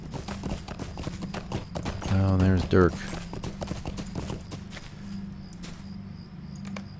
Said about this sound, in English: We'll start with his basic Bree horse.